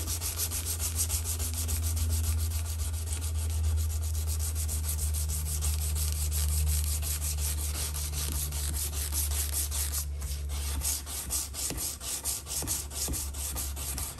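Sandpaper rubbing back and forth over an old German knife blade to remove deep scratches, a steady close scraping rhythm with a constant low hum beneath.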